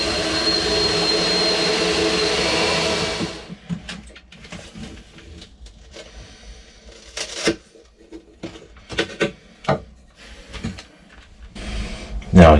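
A 4.5-inch hole saw cuts into a boat deck during a marine toilet installation, a loud, steady grinding roar for about three seconds that stops abruptly, followed by scattered clunks and knocks from handling.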